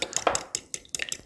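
Spoon scraping and clinking around a bowl while melted coconut oil is stirred into a keto fat bomb mixture, a quick run of close, irregular taps and scrapes with no talk.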